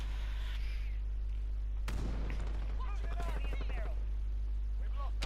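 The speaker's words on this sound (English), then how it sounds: "the precision airstrike is a quite effective kill streak at least" Precision airstrike kill streak explosions in Call of Duty: Modern Warfare: a sudden loud blast followed by a cluster of rumbling booms and gunfire, with a persistent low hum and voices talking over it.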